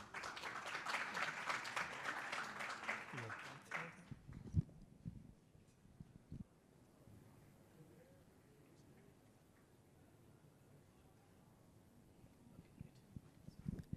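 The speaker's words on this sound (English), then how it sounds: "So please give Ayush a big round of applause from Huddle." An audience applauds at the Pragma Singapore 2024 conference talk: dense clapping for about four seconds, then it dies away into a quiet room with scattered faint taps and shuffles.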